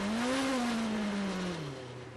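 A Porsche 963 race car pulls out of the pit lane on cold tires at the 24 Hours of Le Mans. Its engine note is a single clear tone that climbs briefly, then falls and fades as the car moves away.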